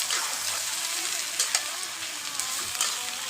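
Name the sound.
stirring and mixing Bombai chili pickle with turmeric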